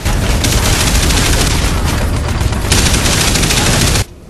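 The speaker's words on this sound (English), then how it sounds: "the human machine guns sound like they are shooting weak BB gun bullets, including the heavy machine gun" Sustained, dense machine gun fire from human weapons, including a heavy machine gun, rattles loudly and continuously in the Terminator Salvation video game, with no voices, until it cuts off abruptly near the end.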